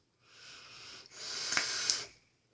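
Someone draws on a battery-powered atomizer vape device with a button, a quiet airy inhale that swells over about two seconds, with brief crackly peaks near the end and no talk.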